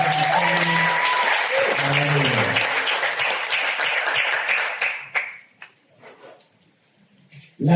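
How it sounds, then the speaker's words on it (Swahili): A church audience gives the pastor a dense, loud round of applause that fades out after about five seconds, with a voice calling over the start and scattered quieter sounds afterward. "mpigieni makofi"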